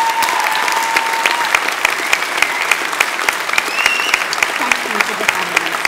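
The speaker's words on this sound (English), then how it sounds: "So I think it's time that we give them a round of applause and say thank you for all the help that they've given us." Sustained applause fills a degree ceremony hall, dense steady clapping from a large crowd lasting throughout, with faint voices murmuring underneath.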